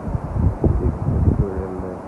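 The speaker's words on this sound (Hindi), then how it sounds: "देखिए तेज हवा" Strong wind blowing outdoors in a village, heard as a steady low rumble buffeting the microphone with irregular gusts; a faint voice may be mixed in near the end.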